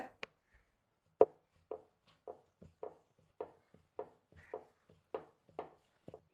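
North Indian-style chapati (phulka) dough dipped in flour is rolled out on a board, producing sparse, crisp wooden knocks and thuds of the rolling pin at an irregular half-second rhythm, close and fairly quiet with silence between.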